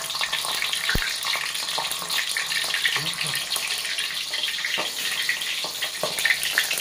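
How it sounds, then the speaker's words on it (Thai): Mackerel fries in hot oil, a continuous crackling sizzle with occasional pops and clatter, heard at moderate level with a voice briefly in the background. "ทอดปลาทู"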